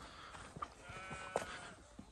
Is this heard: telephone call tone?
no